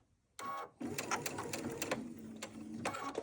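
Sewing machine chain piecing quilt blocks, stitching in a steady rapid run with a short pause and a mechanical clatter near the start, close and fairly loud.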